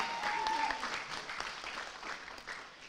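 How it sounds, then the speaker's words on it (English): Audience applause at a 2023 scholarship ceremony, a soft, steady patter of many hands clapping that fades slightly toward the end, heard from a distance. "still give her a round of applause"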